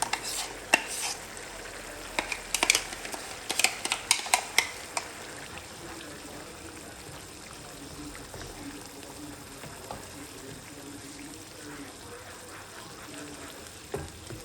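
Tomato and onion paste frying in a pan for chicken changezi, with a few sharp spoon clicks and scrapes against the pan early on, then a low, soft sizzle.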